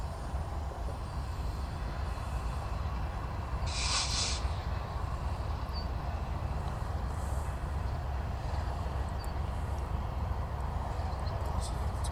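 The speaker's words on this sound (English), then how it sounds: "Sorry about the train noise," Steady low rumble of a train nearby, continuous and heavy throughout, with a brief hiss partway through.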